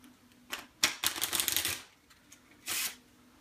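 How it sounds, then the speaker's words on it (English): A deck of playing cards being shuffled by a magician: a quick riffle burst near the start, a longer ruffling run in the middle and a final sharp riffle, close and fairly loud with no talking. "and we'll give the cards a shuffle."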